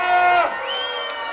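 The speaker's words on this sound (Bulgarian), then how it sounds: "Аплодисменти за двамата!" Crowd at a freestyle rap battle cheering and whooping, a loud held shout rising over the room, then settling into a sustained roar of voices.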